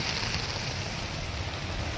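Steady, dense broadband roar of a heavy rainstorm with strong wind, heard from inside a thatched hut, continuous and loud throughout, no voices.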